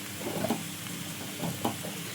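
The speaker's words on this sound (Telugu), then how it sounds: "ఆయిల్లో వెల్లుల్లి పేస్ట్ వేసుకోవాలి" Garlic paste sizzling in hot oil in a pan, a soft steady frying hiss with light stirring scrapes, faint and close, no talking.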